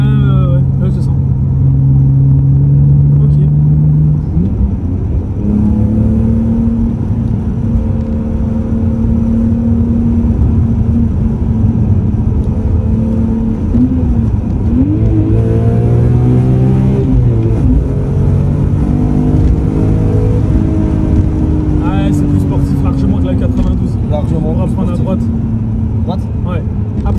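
A BMW M3 E46 with a 343 hp engine and manual gearbox pulls hard through the gears, its engine note rising, dropping at each shift and climbing again. The loud, constant cabin rumble runs under people talking throughout.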